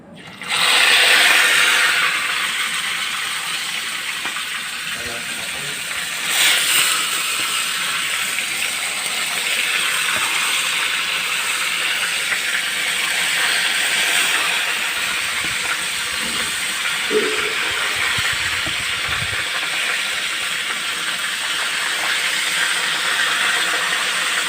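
Fish dropped into hot cooking oil for a Bicolano-style sinigang sa miso, a sudden loud hiss settling into a steady, bright, continuous sizzle that runs throughout, with faint kitchen clatter underneath.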